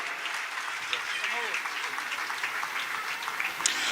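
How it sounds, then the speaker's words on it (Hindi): Audience applause at a Hindu religious discourse on the Sudama story, a dense, steady wash of clapping that holds evenly throughout at moderate level, with a faint voice briefly audible underneath. "जोरदार तालियों से अभिनंदन होना चाहिए"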